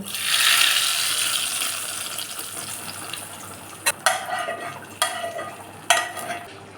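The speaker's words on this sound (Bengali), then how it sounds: "এবার আমি এই পনিরের তরকারির মধ্যে ফোড়নটা দিয়ে দেব।" A hot tempering of cloves, cardamom and dried red chilies in oil is poured into a simmering tomato paneer curry, giving a loud sizzling hiss that fades over a few seconds, followed by sharp clinks and scraping of stirring in the pan.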